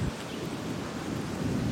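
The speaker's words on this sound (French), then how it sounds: "Ah, ça tonne." Thunder rumbles through a storm in Florida, a faint, steady low roll mixed with rain and wind noise on the microphone, with no voices.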